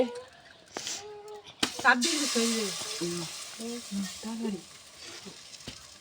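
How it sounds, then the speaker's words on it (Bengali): Grated coconut filling sizzles in a little oil in a wok while a spatula scrapes and stirs it, the frying faint and steady beneath a voice talking throughout. "এরম নেড়ে দিতে হবে নারকেল দিয়ে দিচ্ছে"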